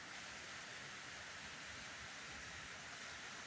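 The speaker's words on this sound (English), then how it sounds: "As you can hear, it's very rainy this morning and it's kind of cool." Heavy morning rain falls steadily outside, a dense, even hiss of broadband noise with no breaks, no voices and no other distinct sounds over the whole stretch.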